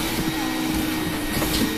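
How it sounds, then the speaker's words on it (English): A vacuum cleaner runs in a gaming office, giving a steady, unbroken whooshing drone at moderate level from start to end with no talk. "The vacuum is on."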